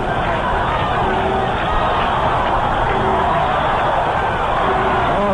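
Crowd of about 20,000 at a 1970 San Diego Padres versus New York Mets baseball game, a steady murmur of chatter and crowd noise filling the background on an old radio broadcast, with speech mixed in.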